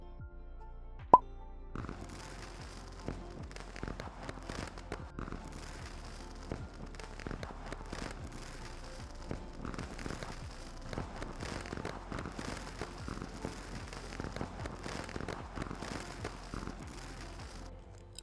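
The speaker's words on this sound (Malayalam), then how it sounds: "നാഷണൽ ഡേയുടെ ഫയർ വർക്ക് കാണാനായിട്ടാണ് നമ്മൾ ഇറങ്ങിയത്." Oman National Day fireworks in the distance, a dense run of sharp pops and crackling bursts with one louder bang near the start, heard fairly faintly for the whole stretch.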